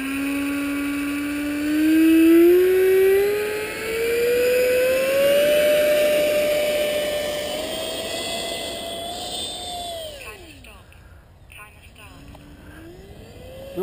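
A HobbyKing Vampire EDF model jet with Dr. Mad Thrust fan unit on its maiden flight, a loud electric ducted fan whine rising and sliding in pitch as it passes, then fading into the distance. Someone speaks briefly.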